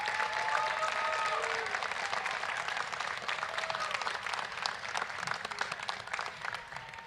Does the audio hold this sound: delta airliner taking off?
no